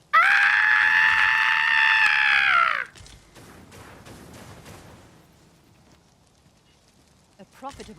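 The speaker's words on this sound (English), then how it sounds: "I'm just hearing screaming." A sustained, high, tonal scream in Dragon's Dogma 2 rings out loud for about three seconds, then cuts off, followed by fainter clattering and scattered low activity fading toward quiet with a few brief sounds at the end.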